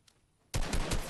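Rapid automatic gunfire in Fortnite erupts abruptly after a brief quiet, loud and close, with quick repeated shots carrying through to the end.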